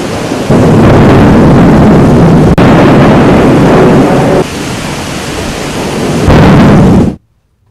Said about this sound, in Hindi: कड़ाके की बिजली कड़क रही थी रांची में आज जब बारिश हुई है